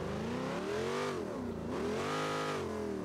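A car engine in a driving video game revs under throttle with its oil overheating, its tone rising, dipping around the middle, then climbing again in a steady, loud, sustained whine.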